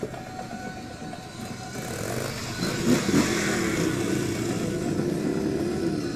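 Motorcycles roar past during a Veterans Day parade in Surprise, producing a broad, rising engine rumble that builds and stays loud and close through the second half, with no talk over it.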